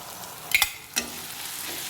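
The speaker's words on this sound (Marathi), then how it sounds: "हे कांदा टॅमॅटो बरोबर व्यवस्थित परतून घ्यायचं" Onion, tomato, garlic, chili and coconut sauté in a pan for a keema, a low steady sizzle with two quick scraping stirs of a utensil.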